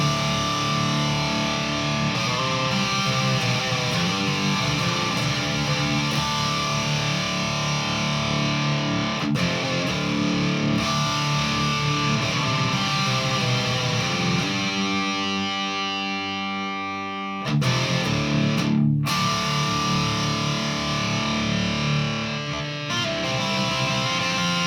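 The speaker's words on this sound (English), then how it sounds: "Very tube-like, very amp-like, but it's a distortion preamp pedal." Electric guitar through a Westminster Effects 2716 V2 distortion preamp pedal, playing extreme high-gain metal with a thick, saturated tone, sustained chords and riffs that run loud and steady, with a brief break and a sharp cutoff near the end.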